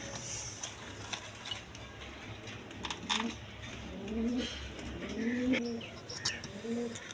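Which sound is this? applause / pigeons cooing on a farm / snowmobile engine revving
pigeons cooing on a farm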